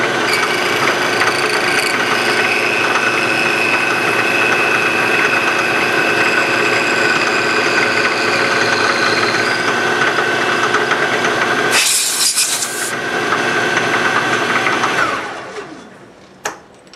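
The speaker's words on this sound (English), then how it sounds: "I'm going to go mill this now parallel to the bottom and not lose my squareness" A milling machine skims the top face of a custom caliper part, running with a loud, steady mechanical drone for about fifteen seconds before spinning down and falling quiet.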